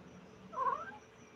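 A cat gives a single short, fairly faint meow or caterwaul in the middle of a quiet indoor moment, with nothing else but soft background hiss.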